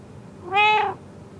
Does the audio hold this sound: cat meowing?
yes